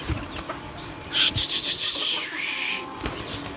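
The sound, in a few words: pet bird flapping wings taking flight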